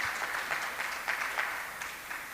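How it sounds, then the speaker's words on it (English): Audience applause at a children's Gita contest, a thin, steady patter of claps with a few sharper ones standing out, moderate in level and without talk. "So we can give him a round of applause."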